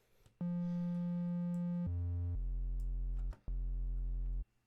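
A bright triangle-wave synthesizer tone for dubstep holds steady, then drops to lower pitches in a few sustained steps, with a brief gap before the last note.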